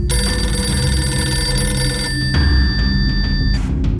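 A telephone rings after a number is dialled, a loud, continuous electronic ringing tone that shifts pitch midway and then cuts off abruptly near the end.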